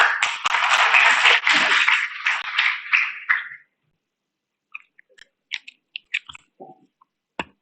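Audience applause at a college engineering induction programme welcoming a speaker, a dense burst of clapping for about three and a half seconds that stops abruptly, followed by a few scattered faint taps and noises.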